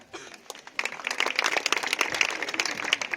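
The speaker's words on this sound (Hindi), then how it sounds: "जोरदार ताली इनके लिए।" Brief burst of clapping from an audience at a career guidance and motivation event in a tribal area, rising after a quiet start into scattered, moderately close hand claps.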